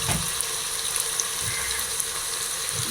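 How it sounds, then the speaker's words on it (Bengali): Potatoes fry in a pan with a steady close hiss and soft crackle, a continuous sizzle with faint low bumps of movement. "আলুগুলোকে আমি দু মিনিট ভাজা ভাজা করছি"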